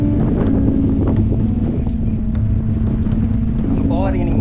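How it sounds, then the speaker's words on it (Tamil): Strong, steady wind roars across the open hilltop around the Malaimatha church shrine, loud and constant throughout. "பார்த்துக்கோங்க காத்து."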